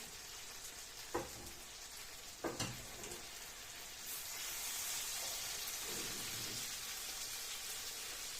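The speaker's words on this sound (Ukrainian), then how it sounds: "Зараз я їх посмажу і перекладу в каструлю з товстим дном." A soft, steady sizzle of eggplant frying in a pan, with a couple of brief clinks near the start and the hiss swelling slightly midway.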